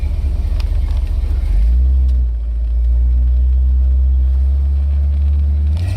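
A 1969 Ford XL Galaxie with a 360 horsepower engine drives along, its loud, deep rumble steady and close, swelling as it pulls away and holding a low throaty drone with no talk.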